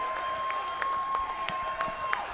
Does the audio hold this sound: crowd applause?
yes